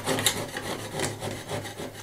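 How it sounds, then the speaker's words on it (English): Scraping old coating off an overhead surface in an old property under restoration, repeated rough rasping strokes in a steady back-and-forth rhythm, close and moderate, no talk. "I'm going to scrape off the biggest bits of these that go along."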